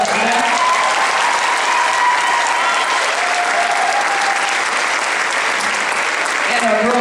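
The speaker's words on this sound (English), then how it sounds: "Nice round of applause for that." An audience applauds at a school event honoring its teams, including a softball team that made the first round of the SEC tournament. Dense, sustained clapping fills the hall from start to finish without letting up.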